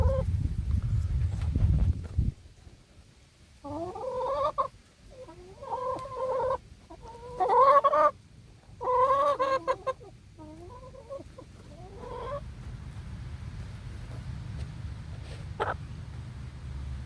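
Backyard chickens cluck and chatter among garden plants, a series of close, rhythmic clucking bursts in the middle stretch, with rustling and low background noise before and after.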